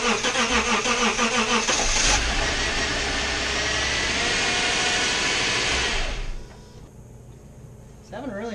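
A Subaru EZ30 engine cranks and struggles to start, rhythmic starter churning giving way to a rough rising roar, then a drop to a lower idle-like rumble.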